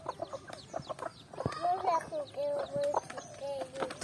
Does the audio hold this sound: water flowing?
no